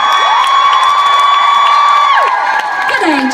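A concert crowd in Oakland at a show cheers and applauds loudly for bass player Jasper Leek, a dense continuous roar with a sustained high tone that slides downward near the end.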